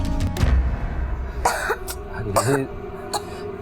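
Several short, harsh coughs break out in bursts over a steady background murmur, some voices audible throughout.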